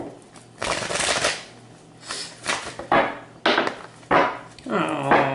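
Tarot cards shuffled by hand in repeated bursts, each riffle a crisp papery flutter with short pauses between, close and fairly loud, with no talk over them.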